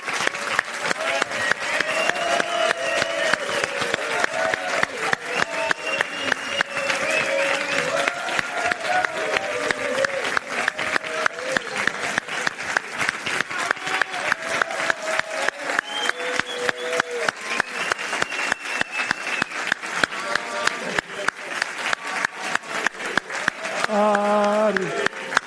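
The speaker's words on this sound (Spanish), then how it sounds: "Este aplauso es para ti." Steady applause from a conference audience at a talk on generative AI in fintech, dense continuous clapping filling the room at an even level, with a few voices briefly rising near the end.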